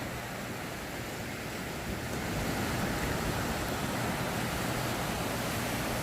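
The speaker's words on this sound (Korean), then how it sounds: "달려오는 파도 보세요" Ocean surf rolling onto a sandy swimming beach, a dense broadband wash of breaking waves that swells louder midway, with wind noise on the microphone and no voices.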